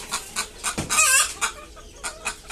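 Desi (native) chickens cluck repeatedly in short bursts, with a louder rooster-like call in the middle, fairly close and without any talking.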